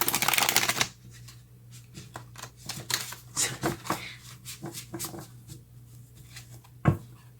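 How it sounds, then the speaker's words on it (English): A riffle shuffle of tarot cards opens with a quick burst, followed by a series of softer taps and slides as the deck is handled, close up. "a little bit of a challenge, the shuffling thing"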